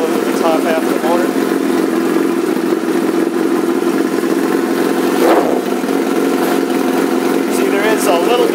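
A 2006 Suzuki GSX-R1000 sport motorcycle idles steadily while warming up, its even engine note running close and unbroken throughout.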